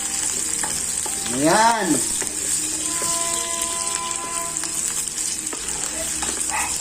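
Onions and garlic sizzle steadily in a hot pan, a continuous close crackle with a few louder stirring scrapes. A voice speaks briefly near the start.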